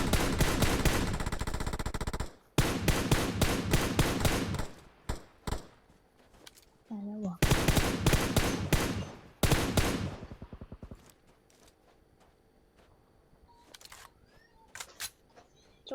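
Automatic gunfire in the mobile battle-royale game PUBG Mobile, with loud rapid bursts and single shots broken by short pauses, then fainter scattered shots in the distance as the fighting dies down.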